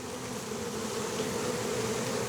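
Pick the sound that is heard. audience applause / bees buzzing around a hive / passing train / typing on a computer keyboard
bees buzzing around a hive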